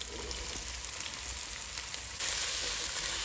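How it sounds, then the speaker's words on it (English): Onions sizzle over medium heat for a boneless chicken and mushroom curry, a dense, even frying hiss close up that jumps louder partway through as more hits the hot pan. "I'm just adding the onions in"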